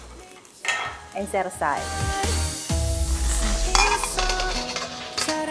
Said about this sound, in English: Scramble the egg to cook it evenly, but don't scramble too much